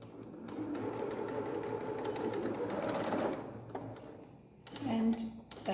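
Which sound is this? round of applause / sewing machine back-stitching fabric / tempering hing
sewing machine back-stitching fabric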